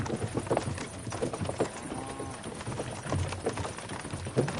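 Horses pulling a cart in the medieval game Kingdom Come Deliverance 2, hooves clip-clopping in a steady rhythm with cart rumble beneath, moderately quiet.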